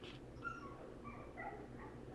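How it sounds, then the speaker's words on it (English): A dog whines and whimpers faintly in the background, with thin high-pitched whimpers and yips scattered over a quiet, steady room hum. "so you can hear the dog in the background"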